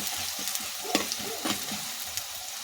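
Onion and dried red chillies sauté with salt in a pan for banana stem thoran, giving a soft continuous sizzle with a few light stirring scrapes, fairly quiet and with no voices.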